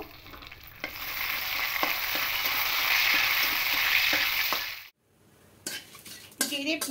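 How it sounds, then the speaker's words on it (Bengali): Whole cumin seeds and two bay leaves frying in hot oil give a loud, steady sizzle with clinks of a utensil against the pan; the sizzle stops abruptly, followed by brief clattering and stirring noises. "এবার এই তেলের মধ্যে গোটা জিরে ফোড়ন দেব, দুটো তেজপাতা দেব"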